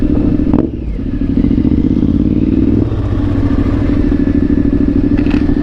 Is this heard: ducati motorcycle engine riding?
yes